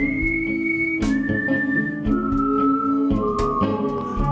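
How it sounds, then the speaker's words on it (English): Looped whistling builds up in layers, with sustained whistled tones stacked over a repeating rhythmic backing, loud and close throughout. "I whistled in the loop."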